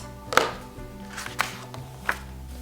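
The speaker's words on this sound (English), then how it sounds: "Give it a nice slice with your cutting mat underneath and make a nice straight slice through the felt" Three short, crisp cuts of an X-Acto knife slicing through felt on a cutting mat, spaced about a second apart, close and fairly quiet.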